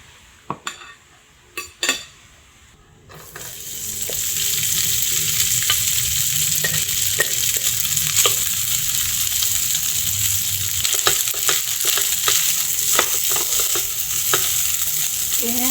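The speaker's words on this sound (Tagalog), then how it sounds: "At magsasangag tayo ng kanin doon" Rice being stir-fried in a pan into sinangag, a steady loud sizzle with the scrape and clink of a utensil stirring, preceded by a few brief clatters before the pan noise begins.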